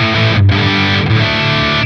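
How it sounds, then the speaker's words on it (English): Electric guitar played through a Line 6 Helix modeling an Angle Meteor amp with low drive, ringing chords with mild crunch, loud and continuous with brief dips between strums. "this is the Angle Meteor, and I have the drive really low here because I really like the tone of that amp"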